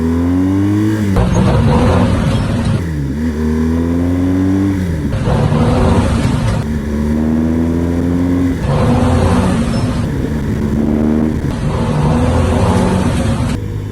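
Deep, loud BMW R1200 GS motorcycle engine revving continuously, pitch climbing and dropping in repeated surges as gears shift, with no voices.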